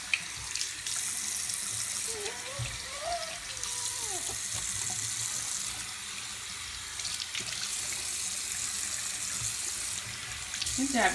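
A bathroom tap runs steadily into a sink while a face mask is rinsed off, a soft constant splashing flow with brief changes in the stream and faint voices in the background.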